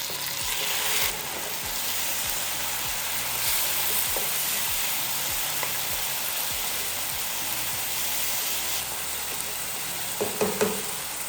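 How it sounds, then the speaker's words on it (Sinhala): Skinned tomatoes hit onion and garlic frying to light brown in a pan, setting off a steady, close sizzle that runs throughout, with a few clinks and stirring scrapes near the end and no talk. "අපි දැන් ටොමැටෝ ටික එකතු කරගන්නවා"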